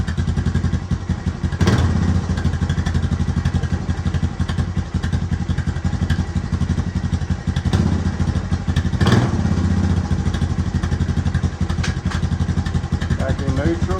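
A Honda Recon TRX250TM ATV engine runs steadily in first gear with a constant close mechanical drone and a couple of thumps, while someone talks over it.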